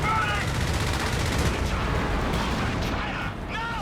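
Strafing gunfire in the World War II strategy game Company of Heroes 3, a dense, continuous roar of rapid shots and blasts filling the whole span, with a voice talking over it.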